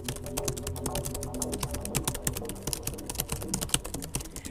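Rapid typing on a computer keyboard, close and busy, with dense clicking keystrokes in an uneven flurry and no voices over it.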